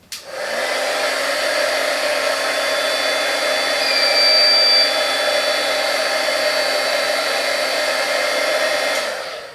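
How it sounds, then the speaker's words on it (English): A heat gun aimed at a fire alarm heat detector: a steady, loud electric fan-and-heater whine like a hair dryer, running continuously for several seconds before cutting off, with no talk. "It's almost like a hair dryer, but a lot hotter and more, and it has a very fine point of heat."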